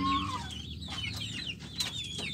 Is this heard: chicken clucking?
yes